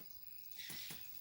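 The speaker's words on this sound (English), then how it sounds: "Very noisy crickets" Noisy crickets chirp in a faint, high, steady trill, with two brief louder pulses near the end against quiet night air and no talking.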